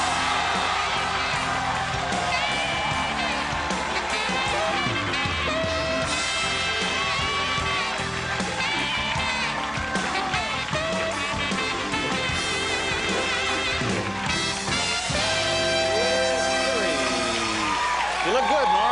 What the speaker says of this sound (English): The crowd goes crazy.